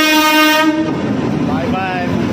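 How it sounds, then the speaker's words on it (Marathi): Shalimar Express train horn sounding loudly and close as the train arrives at Kalyan station, a sustained blast that cuts off and gives way to rumbling rail and platform noise. "ट्रेन येत आहे आता माझी ट्रेन।"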